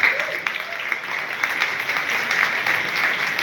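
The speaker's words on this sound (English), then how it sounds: "round of applause for David, please" Steady audience applause at a London EOS blockchain meetup, a dense, even patter of many hands clapping at moderate volume without a break, with no talk over it.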